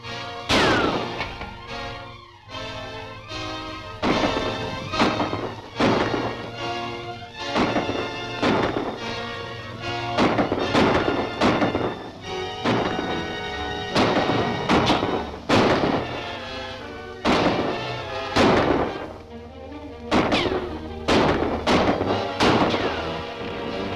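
A rapid volley of gunfire in a 1939 Dick Tracy serial, many sharp, loud bangs in quick irregular bursts aimed at shooting out a light, ringing over an old film soundtrack with almost no talk.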